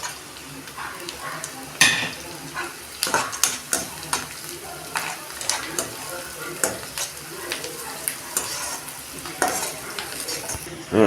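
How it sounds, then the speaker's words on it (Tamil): Golden fried onions sizzle steadily in a pan with cinnamon, cloves and cardamom for a dhaba-style chicken gravy, while frequent sharp spoon scrapes and clanks punctuate the close, constant frying hiss. "இப்போ வெங்காயம் நல்லா பொன்னிறமாக விதகிடுச்சு பட்டை கிராம்பு ஏலக்காய் எல்லாத்தையும் போட்டுக்குவோம்"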